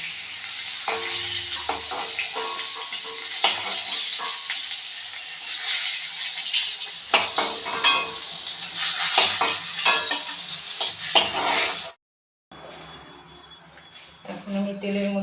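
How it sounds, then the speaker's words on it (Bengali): Nigella seeds tempering in hot oil for a pointed gourd and poppy seed dish give a loud, steady close sizzle with stirring, then drop out briefly before the frying resumes softer. "এখন আমি তেলের মধ্যে ফোড়নের জন্য কালো জিরে দিয়ে দিলাম"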